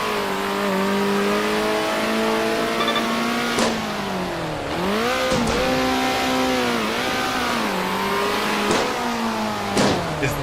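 A car engine idles and revs repeatedly, pitch rising and falling in smooth swells with brief sharp bursts, loud and steady throughout, at an outdoor event with cones.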